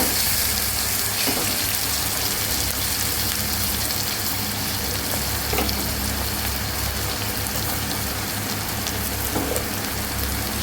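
Two chopped medium onions fry in a pan with a dense, even sizzle that crackles steadily and closely throughout, with no talking.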